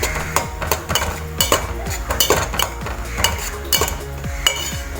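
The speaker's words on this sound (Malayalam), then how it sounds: "നമുക്കിത് ഇളക്കിയെടുക്കാം" Noodles being stirred in a pan for a simple evening snack: a steady run of metallic scrapes and clinks from a utensil against the pan, close and fairly loud, with no talk.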